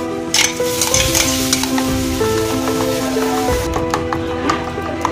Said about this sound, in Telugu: ఈ పిండిని దోశలా వేసుకొని నూనె వేసుకొని ఉండనివ్వాలి